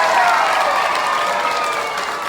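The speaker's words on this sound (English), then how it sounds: "If we can give him a round of applause." Loud applause from an audience at a school award assembly, a dense crowd clapping with some cheering and murmured voices underneath.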